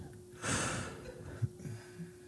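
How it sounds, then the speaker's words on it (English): A person breathes close to a microphone on a call, with one loud, rough exhale like a snort near the start, followed by softer breaths and small noises. "we can hear you breathing"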